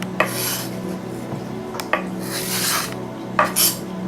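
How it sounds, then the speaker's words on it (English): Garlic and onion are scraped into a pan in a kitchen, with several sharp clinks and rasping scrapes of a utensil against the pan's metal spread across a few seconds, close and fairly loud. "Now I'm going to transfer my garlic and my onion into my pan so I can brown it for a little bit."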